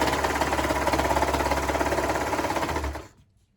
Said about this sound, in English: now we're gonna just sew these with a 1/2 inch seam allowance